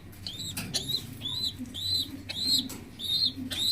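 Pigeon feeding its chicks, with a series of repeated squeaky begging calls from the young and soft rustling and flapping close by, recurring in quick bursts over a low background rumble.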